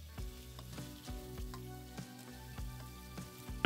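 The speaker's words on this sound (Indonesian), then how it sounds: "Ini kita tumis hingga kaku ya." Spice paste sautéing in cooking oil for chicken soto, a steady close sizzle with light stirring scrapes and crackles running throughout, no voices.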